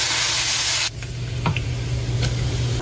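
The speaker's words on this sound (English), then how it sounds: "Cook bacon." Bacon cooks in a pan for Jamaican Chinese fried rice, opening with a loud broad hiss that cuts off abruptly, then quieter sizzling with a few faint clicks and pops.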